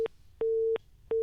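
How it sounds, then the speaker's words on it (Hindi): Telephone busy signal after a dropped call: a steady single-pitch tone pulsing on and off in regular beeps, clear and close, with no voices. "कट गई से शायद इनकर फोन"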